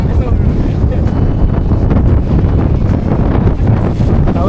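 Strong wind at a reverse waterfall in misty hill country near Junnar, roaring as steady, loud buffeting against the microphone with a constant rumble and no break.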